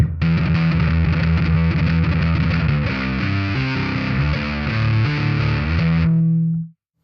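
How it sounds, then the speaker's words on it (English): An SG electric bass played through a Walrus Audio Jupiter v2 fuzz pedal chugs out a thick, heavily distorted riff that runs for about six seconds, then cuts off abruptly. "I today am playing Chris's SG bass again"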